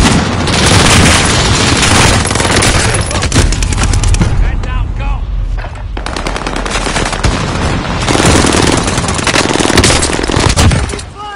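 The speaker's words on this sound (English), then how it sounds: "under heavy fire" Heavy gunfire in a video game, with loud sustained machine-gun bursts and booming blasts that ease briefly midway, then resume at full intensity under occasional voices.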